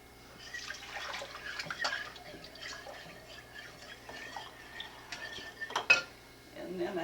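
Water trickles into a measuring cup at a home kitchen counter during a koláč baking lesson, a soft pour mixed with clinking dishes and utensils, moderately close, with no talking.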